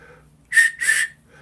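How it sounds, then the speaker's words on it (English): An old premium gumball-machine prize whistle is blown twice in quick succession, two loud, shrill, breathy blasts close by. Each blast lasts about a third of a second, with quiet room noise before and after. "So those were premium whistles"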